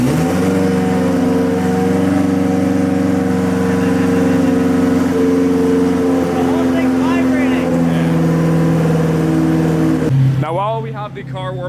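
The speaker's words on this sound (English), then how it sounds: "while we have the car warming up here" A race car idles steadily while warming up, a loud, close, continuous engine drone with a slight pitch drop near the end, as people talk over it.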